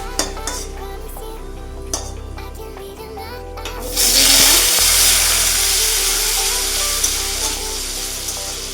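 Potatoes fry in hot oil in a pan for a cabbage dish; the sizzle starts quieter with clinks of a utensil, then swells into a loud, dense hiss that holds steady, close up with no talking.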